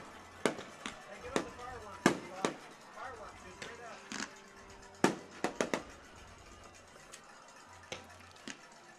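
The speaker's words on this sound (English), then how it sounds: "Fireworks going off." Fireworks burst at a high school football game, a run of sharp cracks and pops scattered irregularly across the stretch, some loud and close, others fainter, over steady crowd and field ambience.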